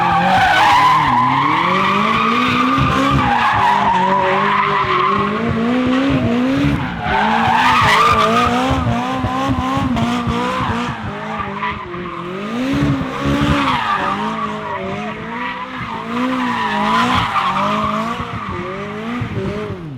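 A Lamborghini skids as the wheel is cut and the throttle floored, a loud continuous engine roar rising and falling under sustained tire squeal, close and with no talk.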